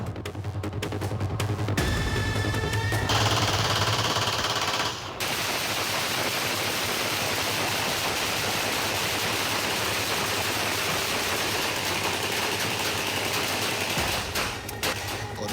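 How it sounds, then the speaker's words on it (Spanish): Rapid machine-gun fire in a sustained burst, loud and close, firing continuously for over ten seconds amid a criminal gang's clash with rival bands or police, with a brief pause near the start before the barrage resumes. "Con una ráfaga de disparos imponen su autoridad."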